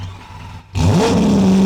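A straight-piped V12 Lamborghini SVJ idles, then roars up into a loud rev that climbs in pitch and holds steady at a high growl, close by and with no talking.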